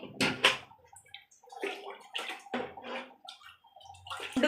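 Water poured in uneven splashy bursts into a pot of old rice for a vegetable biryani, close and fairly quiet, with short pauses between pours.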